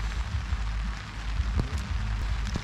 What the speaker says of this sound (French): Il pleut.